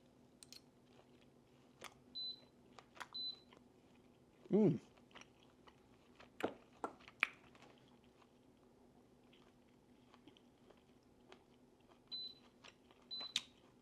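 Someone chewing a bite of steak cooked in an air fryer, soft close-up crunching and wet mastication in scattered bursts over a quiet room, with a few small clicks and no speech.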